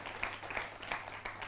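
Audience applause at a Quranic study gathering, a fairly faint, brief patter of scattered hand claps with uneven rhythm, heard from a distance in the hall.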